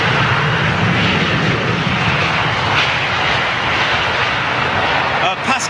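Boeing 777-300ER on approach to land at London Heathrow in stormy weather, a steady loud jet engine roar with wind buffeting throughout, people talking over it.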